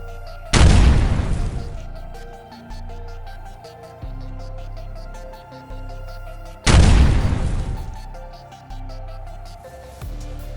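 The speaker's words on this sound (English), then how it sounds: "Troika's shells fall like a nightmare on the enemy even beyond the contact line" Artillery shells from Troika shelling burst in two heavy, booming explosions several seconds apart, each a loud sudden blast with a long rumbling decay. Low thuds and a steady background drone fill the gaps between them.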